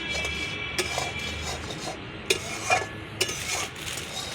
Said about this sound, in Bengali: কিন্তু নিচে কন্টিনিউ এরকমভাবে আপনাকে নাড়তেই হবে